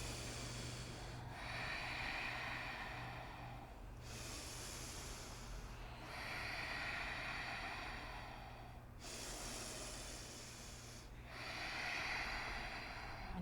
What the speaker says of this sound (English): Take 3 big breaths.